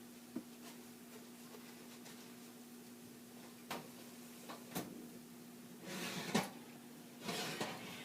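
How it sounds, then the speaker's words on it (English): A hot bread dish is lifted out of a preheated oven: faint, sparse clunks and a soft door-like thud, then muffled scraping and clatter over a low steady hum. "Very carefully, we're going to take the dish out of the oven that we've had preheating."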